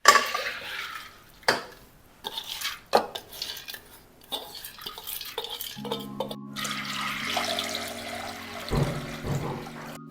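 Soaked horse gram is rinsed in water in a kitchen vessel, with sharp clinks and scrapes of the pot, sloshing and stirring in irregular bursts, then running water near the end.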